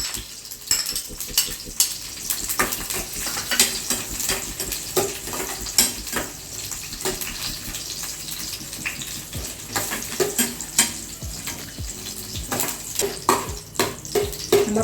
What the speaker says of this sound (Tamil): முந்திரி, கிஸ்மிஸ் பழம், ஏலக்காய் 3 வறுத்துக்கிடுங்க.